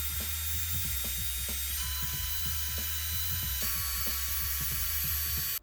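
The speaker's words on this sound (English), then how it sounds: "I'm going to drill this one out a little bit so it's easier for me to screw the motherboard into the front half of the" A small drill bores out a screw hole in a keyboard case, giving a high whining motor tone with a rhythmic ratcheting chatter, about two per second, steady and close.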